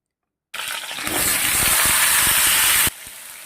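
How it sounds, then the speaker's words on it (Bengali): Jackfruit drops into hot oil in a wok and a sudden loud, broad sizzle starts. The hiss holds steady for about two seconds, then settles to a softer continuous frying sound, with no talking. "কড়াইয়ের তেলটা গরম হয়ে গেছে, এবার এঁচড়গুলা ভেজে নেব।"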